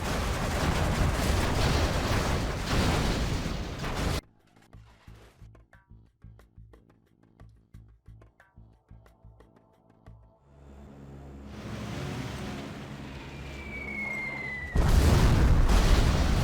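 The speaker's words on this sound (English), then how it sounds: "Wow, that is a legendary Anthrax bomb." A huge Anthrax bomb detonates in the real-time strategy game Command & Conquer Generals Zero Hour, with a loud, broad blast that then thins into quieter scattered crackles and rumbles before another big roaring burst swells up.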